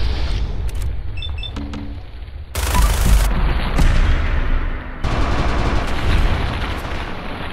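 Gunfire in Fallout 4 aimed at a Deathclaw: loud, dense bursts of rapid shots in separate blocks of sound, separated by brief lulls, with no talking heard.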